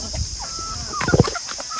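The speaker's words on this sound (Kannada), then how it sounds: "ಕೋಳಿ ನೋಡಿ ಇಲ್ಲೇ ಬಂದು ನಿಂತಿರ್ತವೆಲ್ಲ ನೋಡಿ" A few short clucks from free-range country chickens close by in open farmland, a brief cluster over a steady background hum.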